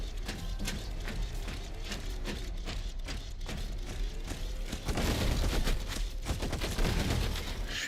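Rapid gunfire from shooting targets in the video game Junkster, a steady stream of shots throughout that grows louder and denser in the second half, with no talking.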